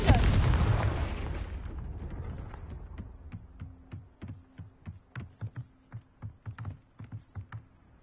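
A Confringo spell blast in Hogwarts Legacy, a loud booming explosion that rumbles and decays over a couple of seconds, followed by a steady series of soft thudding pulses.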